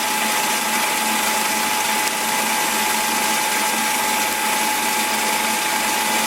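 Steady close whirring from a Tormach PCNC 1100 lathe cutting a 2.5-inch EN36 steel bar with a touch of WD-40, a continuous machine hum with a thin tonal whine and no speech.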